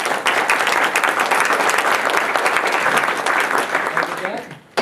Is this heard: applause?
yes